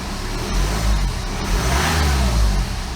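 A BMW E90 diesel engine runs steadily after an ECU replacement, a close, loud mid-pitched rumble with slight revving swells and no voices.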